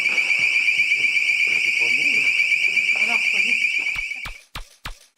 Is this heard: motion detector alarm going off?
yes